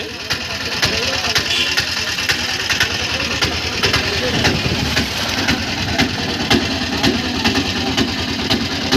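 An auto rickshaw loaded with Banginapalli mangoes idles at a weighing station in Vissannapeta, its engine a steady, dense rumble running throughout beneath people talking nearby.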